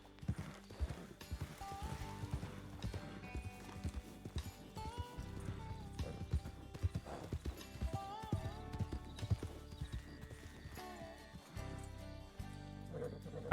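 Galloping horse hooves in Red Dead Redemption 2, a steady clip-clop rhythm running throughout over a dense bed of game music and ambience, with occasional whinnies.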